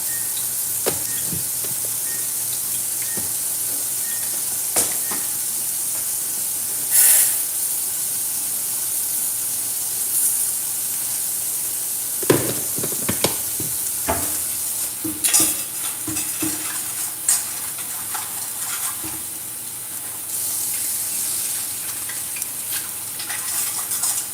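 Oil heating in a pan with dal cooking on low, giving a steady soft sizzle and hiss over a long stretch, broken by occasional clinks and stirring bumps nearby.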